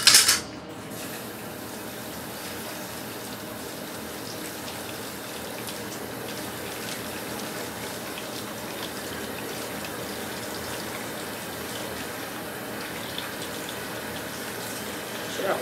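Steady running water pours continuously for the whole stretch, a broad even gush with no voices over it.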